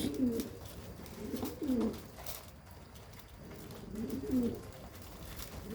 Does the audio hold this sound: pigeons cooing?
yes